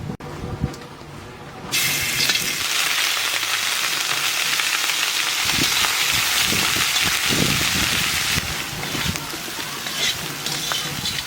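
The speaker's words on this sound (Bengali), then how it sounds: "মাছটা তেলের মধ্যে দিয়ে দেবো" Large chital fish belly pieces hitting hot oil, a sudden loud hissing sizzle that starts after a quieter moment and stays steady and close, with faint knocks of handling underneath.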